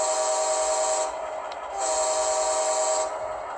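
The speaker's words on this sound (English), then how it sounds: "Let's activate the horn." Model train locomotive horn triggered from a ProtoThrottle, giving two loud sustained blasts with a brief dip between them, close and clear with no talk.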